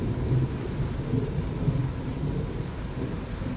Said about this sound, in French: Tu peux entendre encore les orages, ça rigole pas.